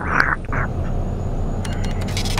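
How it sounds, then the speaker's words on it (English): A duck gives a couple of quick, loud quacks up close at the start, followed by steady low engine-like rumble from a truck. "Thank you, Mr. Duck."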